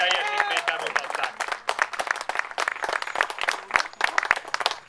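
An audience claps for a horse driver's record display at a puszta riding event, a dense patter of applause near and moderately loud, with a voice over it at the start.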